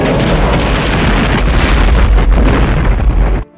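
A loud, continuous roar of bombs exploding on a power plant rumbles and crackles without pause, then cuts off abruptly at the end.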